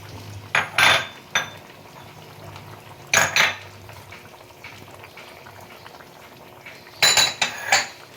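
A spoon scrapes and clanks against a pan while cauliflower do pyaza is mixed, in three bursts of metallic stirring separated by quieter simmering.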